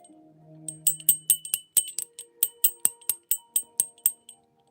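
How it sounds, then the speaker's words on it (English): A rapid series of about fourteen sharp, bright taps on high-quality jade, each ringing with a high, clear crystalline tone, close and distinct. "It almost rings like you're pinging crystal."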